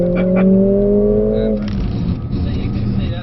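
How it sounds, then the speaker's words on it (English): A Mercedes-AMG is held at high revs with launch control, then released into a hard, roaring full-throttle launch heard from close range, with a voice reacting over the engine. "Here is my genuine first time reaction of using launch control in this car"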